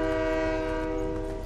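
Train horn in the video game Fortnite: one sustained, loud, steady chord blast that holds without a break for the whole short moment, with no talking.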